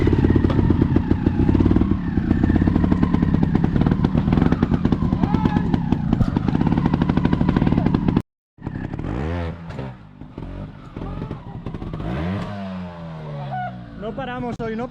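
Trial motorcycle revving and clattering through a muddy, wet section, engine loud and close with bursts of throttle, then after a brief gap someone talks over the bike as it continues pulling and revving.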